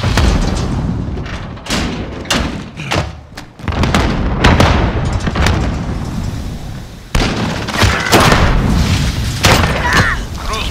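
A cruise missile strike in Call of Duty Modern Warfare sets off heavy, booming explosions and thuds in dense succession, loud and close, amid ongoing gunfire, with voices faintly under the blasts.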